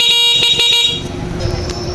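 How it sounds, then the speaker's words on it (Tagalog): Stock horn of a Yamaha Mio i 125 scooter gives a steady, fairly loud beep for about a second, then cuts off, leaving a low engine-like rumble. "pag hindi nakapindot, ang busina niya ay stock horn."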